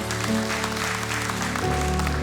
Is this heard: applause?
yes